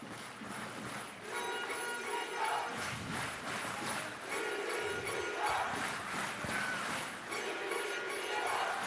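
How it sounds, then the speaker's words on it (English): Football crowd at Rizal Memorial Stadium singing and chanting in a sustained, loud wash of voices at a women's championship match between the Philippines and Indonesia, with swells and dips throughout and no commentary over it. "listen to the crowd here at Rizal Memorial serenade our girls"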